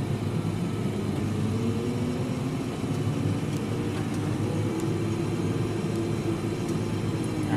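A Fendt tractor drives across a field, its engine producing a steady, loud low rumble with a constant broadband hum that holds level for the whole stretch, with no voices.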